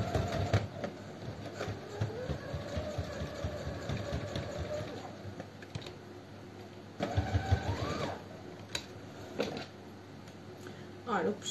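A sewing machine topstitches a wallet in quick, steady bursts of stitching with short pauses between runs, while a person talks over it.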